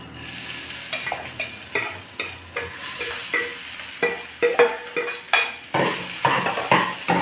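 Sago pearls stir-fried in ghee for a sweet dish, with repeated rhythmic scrapes and clinks of a spoon against the pan over a soft sizzle, close and fairly loud, strokes quickening toward the end.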